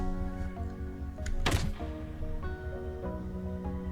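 Mounted spud guns fire from a tank built in a video game: a single loud thunking launch burst stands out over a steady droning engine-like hum.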